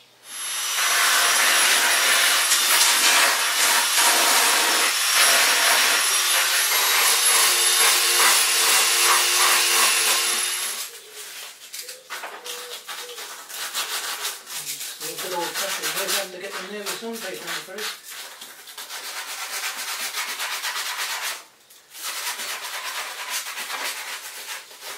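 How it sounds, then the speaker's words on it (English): A power sander works the filled surface of a carved wooden pike model, first a loud continuous whine, then quieter intermittent bursts with changing pitch and brief stops. "I've got a little bit more work to do with the sander."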